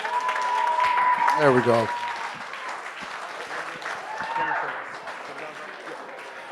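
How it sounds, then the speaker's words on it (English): Banquet audience applause and clapping for a speaker, a steady wash of many hands throughout with a brief spoken remark near the start and crowd noise underneath. "Guys, put those hands together for him nice and loud, everybody. Clap."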